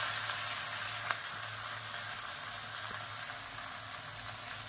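Onions sizzle steadily in hot oil for brinjal kulambu, an even, close frying hiss throughout with a faint clink or two and no talking.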